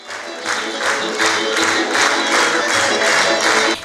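Applause in a city hall event room as operetta and opera singers enter: a dense, loud crowd of clapping hands, continuous and swelling slightly over a few seconds.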